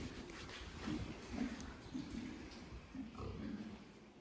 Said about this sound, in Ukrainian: Це мої, кстати, поросятка, трьохпородочка.